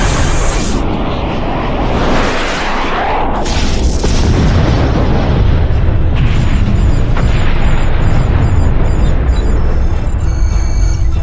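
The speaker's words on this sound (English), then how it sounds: "Fire photon torpedoes." Star Trek: The Next Generation photon torpedoes fire and explode in a loud, sustained rush of booming blasts and roaring bursts that fill the scene, with no talk over them.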